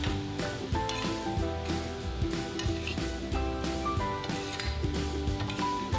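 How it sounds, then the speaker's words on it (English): Cooked lobster pieces are tossed in a wok with Maggi sauce, giving dense metallic clatter and scraping with brief sizzling bursts over a busy kitchen background. "Once you see the sauce is ready, add the cooked lobster and toss."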